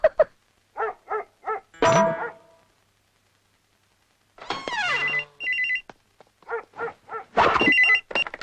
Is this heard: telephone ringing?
yes